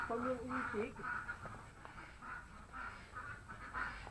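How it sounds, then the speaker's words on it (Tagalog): Ducks at a duck farm quack repeatedly in a busy, fairly distant chorus, with a person talking over them throughout. "Itikan pala to. Daming itik."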